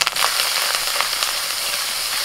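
Spices fry in oil alongside ground onion paste, salt, Kashmiri chilli powder and turmeric, a dense, even crackling sizzle close by with no voices.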